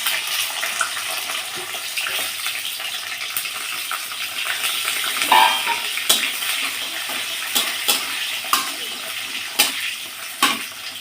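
Steady sizzling of fried taro corm pieces in a pan, with occasional sharp clinks and stirring scrapes toward the end, close and fairly loud.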